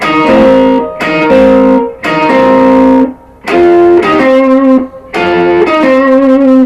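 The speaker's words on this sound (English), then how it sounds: "that's a whole step hammer on." An electric guitar with distortion plays a blues-style lick, a series of loud sustained phrases separated by short gaps, one note rising a whole step by a hammer-on, close and alone.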